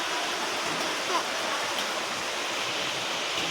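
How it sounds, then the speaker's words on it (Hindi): Heavy rain pours steadily and loudly on a rainy day in Hamirpur, a dense continuous rushing wash close by with no pauses. "मेरे बात करते करते ही बारिश का फ्लो इतना तेज हो चुका है"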